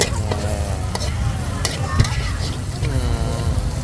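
Pad thai ingredients (tofu, dried shrimp, preserved radish) stir-frying in oil in a wok at a temple fair stall, a loud continuous sizzle with scraping strokes and faint voices in the background.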